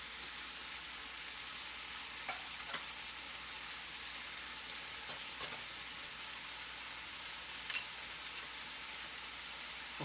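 Celery sizzling in a Dutch oven, a faint, even hiss of frying throughout with a few soft clicks and scrapes, quiet and steady without talk.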